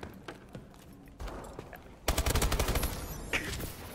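Rapid bursts of gunfire from a favorite gun in a video game free-for-all match, quiet scattered shots at first, then a loud fast automatic volley and a final sharp shot.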